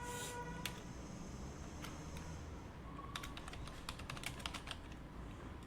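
An office address being typed on a computer keyboard, heard as quick bursts of light key clicks over a faint steady hiss, fairly quiet and without speech.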